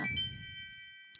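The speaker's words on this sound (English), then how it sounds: "The ringing was the timer." A timer ringing, a short bright ding with sustained high ringing tones that fade away over a second, under a brief low voice at the start.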